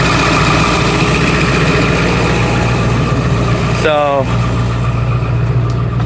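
A Cummins 335 small-cam diesel engine, cold started on one battery, idles loudly and steadily with a low rumbling throb, briefly interrupted by a short starter whirring burst, while someone speaks a word over it.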